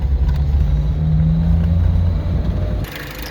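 A 1956 Ford Anglia 100E engine runs at a steady loud idle with a low droning hum and rough rumble, then the sound drops off abruptly near the end, with no voices.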